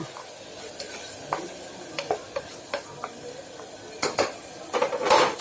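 A spatula scrapes and taps through onions sautéing in oil in a pan, a soft frying hiss underneath and a scattered run of sharper metallic clinks that cluster near the end.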